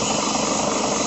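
Isuzu Forward cargo dropside truck with crane, its diesel engine idling steadily, a continuous dense rumble with no break, close and fairly loud, alone.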